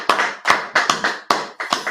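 A few hands clap in an uneven burst of about eight sharp, close claps over two seconds, with no voices.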